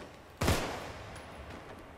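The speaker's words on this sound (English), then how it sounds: "Use my pistol." A single sharp pistol shot in the game Contagion cracks out loudly and close, then a short decaying tail follows in otherwise quiet surroundings, with no speech.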